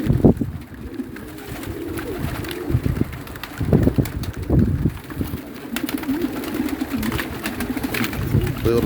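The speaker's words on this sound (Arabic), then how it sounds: "طيور تريد تطير." Pigeons coo repeatedly in low, throaty bursts close by, with occasional rustling and faint voices in the background. The pigeons are small red birds.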